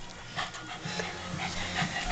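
A puppy whimpers and pants close by in short, soft, breathy bursts of whining over steady huffing, continuing throughout.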